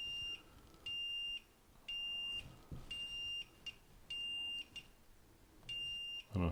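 Repeated electronic alarm beeps from a Zooz water leak sensor in regular bursts, about five long high-pitched tones with short gaps, fairly loud over a quiet background.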